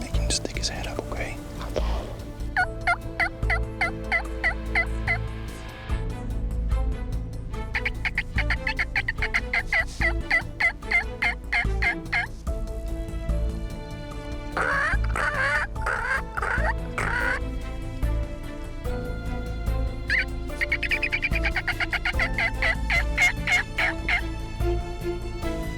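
Soft turkey calls and gobbling carry on throughout during a youth turkey hunt, with low whispering voices nearby.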